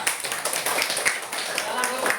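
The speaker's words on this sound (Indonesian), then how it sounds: "kita beri tepuk tangan untuk kelompok 3" Schoolchildren in a classroom clap together for a presenting group, a brief burst of quick, irregular claps mixed with voices.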